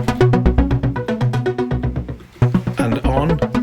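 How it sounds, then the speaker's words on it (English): A synth track played through a Tau Chorus LX chorus pedal, a clone of the chorus found in old synthesizers, giving a steady run of rhythmic, harmonically rich notes that stay loud and up close throughout. "This is the Tau Chorus LX."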